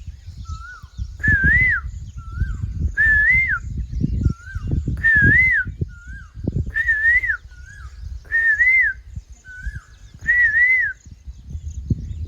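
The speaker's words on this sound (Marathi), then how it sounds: "कोकिळाचा बघा किती छान आवाज येत आहे." A koel sings in the rain and hail, repeating a loud, clear rising whistle about eight times in a steady rhythm over a low rumbling background.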